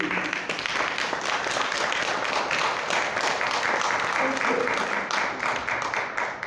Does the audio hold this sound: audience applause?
yes